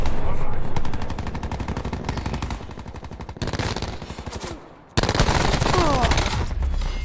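Rapid automatic fire from the Maddox RFB rifle in Black Ops 4, a fast stream of tightly spaced shots with brief pauses between bursts, loud and close amid other in-game battle noise.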